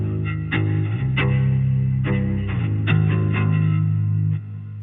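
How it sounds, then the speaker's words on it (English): An electric guitar played low like a bass runs through an Electro-Harmonix Pitchfork pitch-shifter pedal, giving thick, slightly distorted notes plucked in a short, loose phrase that ends abruptly. "with the pitchfork added"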